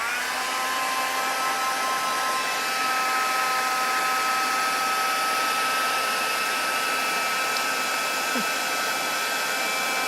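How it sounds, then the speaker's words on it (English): A heat tool blows with a steady, even whirring hiss, close and constant, used to melt gold embossing powder on a papercraft card. "Bring in my heat tool."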